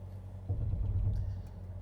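A BYD Shark at full throttle, heard as a deep engine rumble that swells partway through and holds steady and fairly loud, with no speech.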